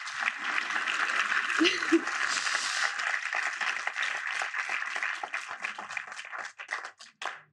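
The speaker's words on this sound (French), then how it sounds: "Mais vous pouvez applaudir" A live audience at a talk by an author and spokesperson breaks into sustained applause, dense and steady for several seconds before thinning into scattered claps, with some voices mixed in.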